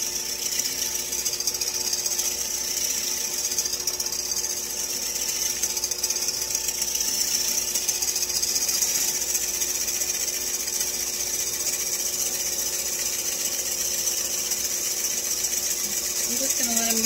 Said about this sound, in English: I'm just going to let them get a little foamy. I'm on speed 3 on my mixer.